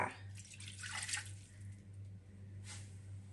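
Warm water poured into a bowl as the first step of a Turkish dough, coming as faint splashing gushes over a steady low hum, with a second short pour near the end.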